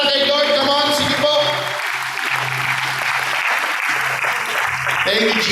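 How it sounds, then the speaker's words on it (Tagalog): A church conference crowd claps loudly and continuously for several seconds in a large hall, with sustained tonal music and voices blending under the applause. "Malakas ang palakpak para kay Lord."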